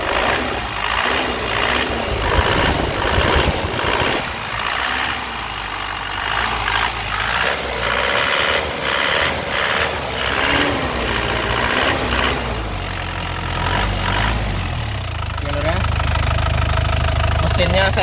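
A black 2018 LS Turbo engine idles steadily with a low, uneven rumble, and someone talks over it throughout.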